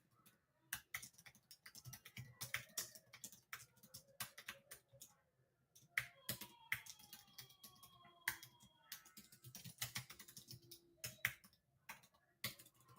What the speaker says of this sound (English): I hate typing over here